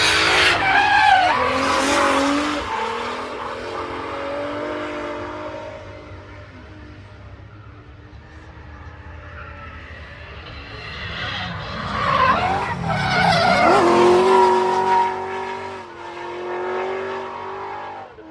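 A 1,100-horsepower race car at a track day at Castle Combe screams past at close range, its loud engine wail climbing and falling with tyre squeal, then surging hard again as it accelerates away.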